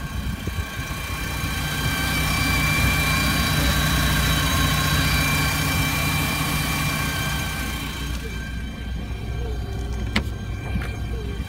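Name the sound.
2008 StarCraft 1800 Limited engine idling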